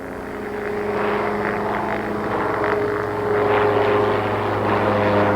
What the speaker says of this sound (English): The Husky is built by Wyoming-based Christian Industries, and it is a no-frills utility plane.